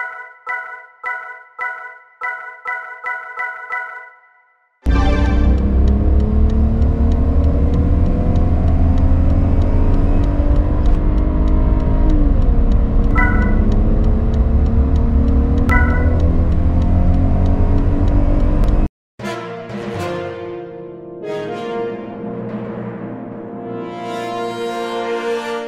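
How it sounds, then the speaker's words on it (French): A 1991 BMW 320i E30 with a six-cylinder engine drives and accelerates in a long, loud, steady drone whose pitch slowly shifts. Short pulsing tones come before it, and other tonal sounds follow. "ce 6 cylindres qu'on va laisser dans quelques instants dans cette caisse de 30 pour se rendre compte de ses qualités dynamiques"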